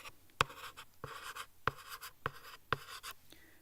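Pen writing chemistry notes on paper or a tablet: a series of close, quiet scratchy strokes with sharp taps where the pen meets the surface, arriving in short irregular bursts.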